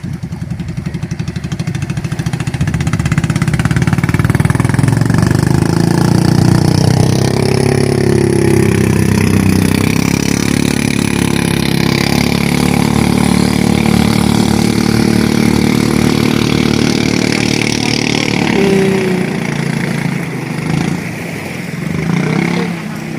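A boat's engine runs steadily and loud for the whole stretch, a continuous mid-low drone that swells slightly and dips near the end, with faint talk beneath it.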